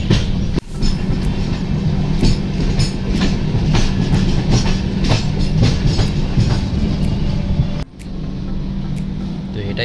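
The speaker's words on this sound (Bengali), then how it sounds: "তো গাইজ এখন খড়গপুর জাংশন ঢুকছে" Duronto Express train rolling into Kharagpur Junction, heard from on board as a steady loud rumble with rhythmic clickety-clack of wheels over rail joints and two brief dips in the noise.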